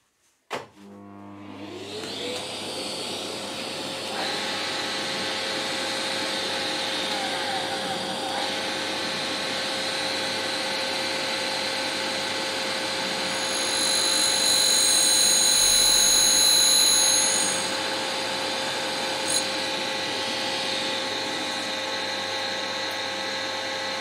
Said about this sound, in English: We can take this material off in one cut by slowly creep feeding into it.